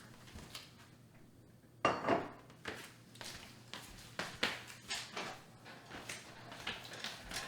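A metal pressure cooker is handled and set down, with a few quiet clanks and knocks followed by lighter scattered metallic taps, close and without voices.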